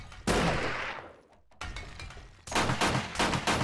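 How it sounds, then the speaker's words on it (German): Gunfire in the video game 7 Days to Die, Rebirth mod: loud rapid bursts of shots with a short lull between volleys, then a dense, sustained stretch of firing. "Hier rumschießen."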